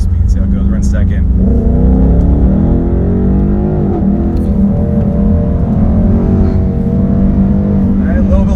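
A 2019 Ford Mustang GT with a 10-speed automatic pulls hard from slow speed in second gear, its engine note climbing steadily and loudly from inside the cabin while someone talks over it.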